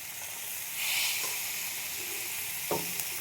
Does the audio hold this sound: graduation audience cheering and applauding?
no